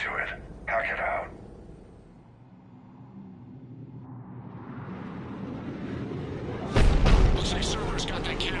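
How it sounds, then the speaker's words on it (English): Cerberus cannon firing in Mass Effect 3, a heavy boom building from a rising rumble into one loud blast late on, with radio-style voices speaking at the start. "Looks like Cerberus got that cannon operational"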